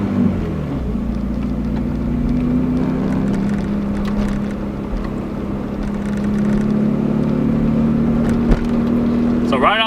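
Car fitted with Raceland coilovers rolling over a bumpy road, heard from inside as a steady low engine and road drone with occasional thumps, continuous for about ten seconds.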